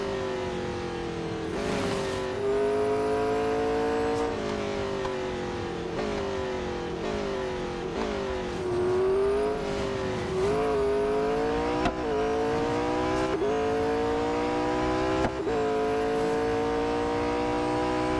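Race car engines in Real Racing 3 whine and rev continuously, pitch climbing and dropping through repeated gear shifts, loud and close with brief tire noises and no talk.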